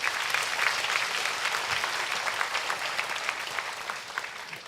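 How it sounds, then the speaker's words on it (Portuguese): A church congregation claps for Jesus in sustained, even applause, moderately loud and unbroken across the whole stretch, with no voices standing out above it. "Aplauda o Senhor Jesus!"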